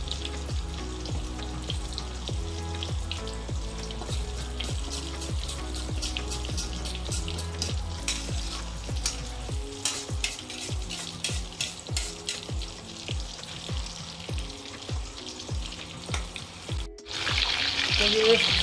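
Chicken kofta balls fry in hot oil with a dense, continuous crackling sizzle, heard under steady background music that runs throughout.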